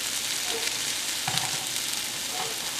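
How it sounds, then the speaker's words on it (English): Herbs and vegetables sizzle steadily as they roast in an oven-safe pan, giving a continuous close frying hiss with occasional soft stirring clicks and no talk. "See, it's starting to roast up a little bit."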